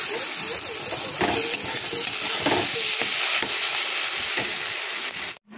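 An egg omelette fries in a pan in a home kitchen, giving a steady broadband sizzle with scattered soft scrapes and clatters, fairly close, before cutting off abruptly near the end.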